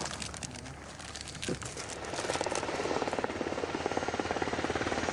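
Military medevac helicopter arriving to airlift a wounded soldier in Afghanistan, its rotor building into a loud, rapid, steady chop that dominates after a quieter, noisy start.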